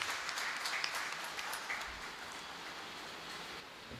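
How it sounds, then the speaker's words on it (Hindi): Applause at a poetry recital: a faint, rain-like patter of many hands clapping that gradually thins out. "तालियां जोरदार होनी चाहिए जरा।"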